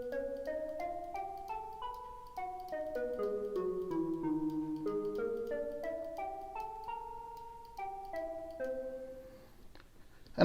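A synthesized FM melody from the AudioDamage Continua app, short, bell-like mallet tones in a steady rhythm, notes rising and falling with bright attacks and quick decays, no voices.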